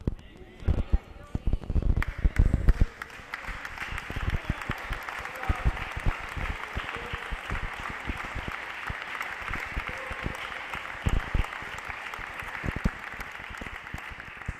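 Applause from a church congregation during a sermon, a broad steady clatter of many hands that rises after a few loud, sharp claps and stays even for most of the stretch, with voices mixed in.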